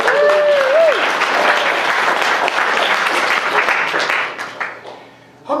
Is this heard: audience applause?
yes